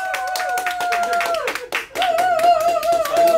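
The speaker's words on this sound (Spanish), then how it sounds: "¡Aplausos!" Studio audience on a rock en español television show claps in quick, lively bursts over a bright music bed, with a brief dip in the middle before the clapping swells again.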